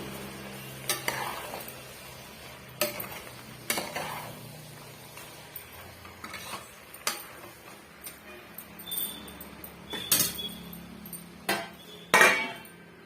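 Vegetables for a wedding-style vegetable biryani are stirred in a pot, with intermittent metallic clinks and knocks of a spoon against the pot over a faint background hiss.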